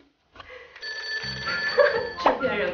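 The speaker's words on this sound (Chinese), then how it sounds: "电话。" A telephone rings during an interview, a bright repeating electronic ring that starts after a brief silence and continues under overlapping talk.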